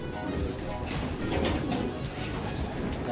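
Soft, continuous cooing of pigeons at a pigeon fancier's loft, several birds calling at once against a steady background hum.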